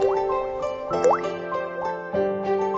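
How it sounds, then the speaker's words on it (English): Osmanthus-infused water strains through, with a few scattered drips and plops spaced irregularly against a faint liquid trickle. "Strain out the osmanthus water for later use."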